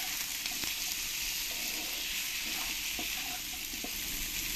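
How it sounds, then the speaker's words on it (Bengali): Potatoes and onions fry with salt and turmeric, giving a constant, close hissing sizzle with occasional soft stirring knocks. "দিয়ে ভালো করে মশলা আলু পেঁয়াজের সঙ্গে আমি মিশিয়ে নেব"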